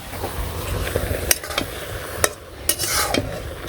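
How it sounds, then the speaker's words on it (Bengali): Bottle gourd greens and flat beans being stir-fried in a Bangladeshi village kitchen: a soft sizzle under repeated spatula scrapes and a few sharp metal clinks against the pan, close and without speech. "তো আজকেও সিম দিয়ে দেশি লাউ শাক ভাজি করে বানছি"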